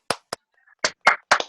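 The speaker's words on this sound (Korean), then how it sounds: "박수 한번 치자, 박수." A small group of people gives a short, sparse round of hand claps, a few separate crisp claps spaced unevenly in a quiet room.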